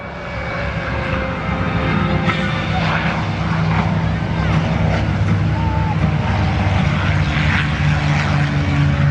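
A propeller trainer aircraft of late-1940s to early-1950s design flies at an air show. Its loud engine drone holds steady and unbroken for the whole stretch.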